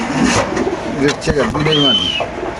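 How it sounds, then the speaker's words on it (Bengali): Soft, close cooing of pigeons, a few rolling throaty calls over a couple of seconds with light background noise. "তারপর আছে আরেক জোড়া কবুতর এখানে"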